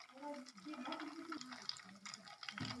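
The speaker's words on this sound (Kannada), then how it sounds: "ಬೆಣ್ಣೆ ತುಪ್ಪ ಆಗಿದೆಯಲ್ಲ, ಈ ಥರ ಕುದೀತಾ ಇದೆ ನೋಡಿ." Butter simmers into ghee in a pan with cardamom, giving a faint, continuous bubbling and sizzling. Someone talks throughout over the cooking.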